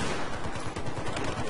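Rapid automatic gunfire in the video game Battlefield 4, a dense continuous burst of loud shots filling the whole moment with no pause.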